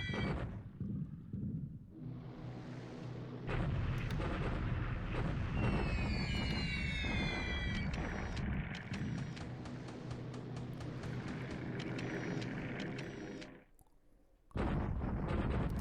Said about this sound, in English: he's bombing these guys to slow them down.